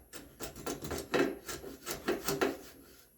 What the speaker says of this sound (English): my blade is just skimming that surface